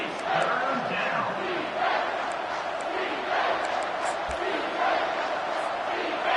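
A big stadium crowd roars steadily and loudly through a crucial third-down play at a Notre Dame at Hawaii football game, a dense continuous swell of cheering with no clear pauses.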